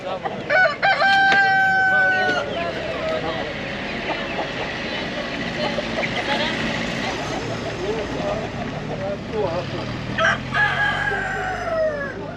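Roosters crow and hens cluck amid a busy, noisy crowd at a poultry market in Taşköprü, Kastamonu, Turkey, with people talking throughout and a steady background hum.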